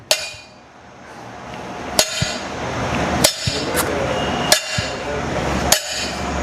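An iron nail strikes and scrapes across a hard glossy tile, making sharp clinking hits spaced roughly a second apart with gritty scraping between them, close and loud.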